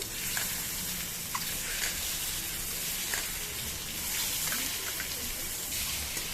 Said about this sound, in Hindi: अंडा को तेल में पकाइबा